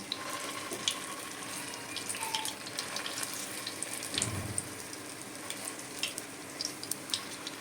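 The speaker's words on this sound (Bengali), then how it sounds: "এইটা আমি এর ভিতর দিয়ে এক এক করে ভেজে নেবো" Pieces of batter fry one by one in hot oil, giving a continuous crackling sizzle with scattered pops and a brief louder splash midway, heard alone without talking.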